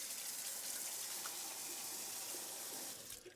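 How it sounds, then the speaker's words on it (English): Tap water runs in a steady, continuous gush as soap is rinsed off under the faucet, sounding close and fairly quiet before it tapers off at the end. "What I'm going to do is just rinse it off,"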